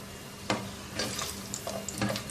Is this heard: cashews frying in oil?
yes